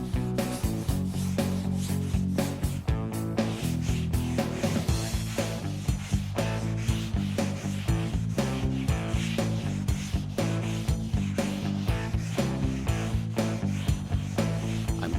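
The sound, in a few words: sanding car body with 16-inch sanding block, 120 grit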